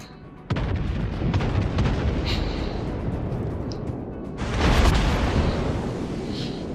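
Incoming naval gunfire strikes the Musashi battleship in a naval combat video game, with a sudden loud boom settling into a sustained rumbling roar and a second heavy swell of blasts later.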